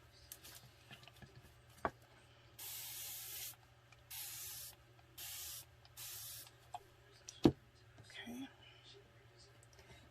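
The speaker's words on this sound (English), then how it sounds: "Let's spray it with water." A spray bottle mists water onto an altered Dollar Tree bottle craft, four close, loud hissing bursts in a row, separated by short pauses, with faint soft voice and handling noises around them.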